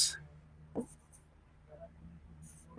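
Pen writing an example English sentence, a few short scratchy strokes separated by quiet pauses.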